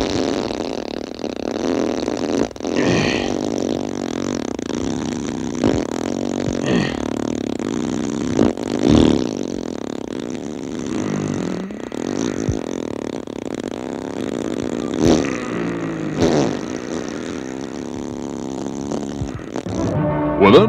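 A very long, loud, continuous fart sound effect rumbles and sputters for about twenty seconds with shifting pitch and occasional bursts, with no talking over it.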